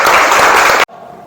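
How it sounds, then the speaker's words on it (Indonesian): Short burst of loud group applause in a teaching session, a dense clatter of hands that stops abruptly after under a second, leaving quiet room tone. "Tepuk tangan untuk kita semua."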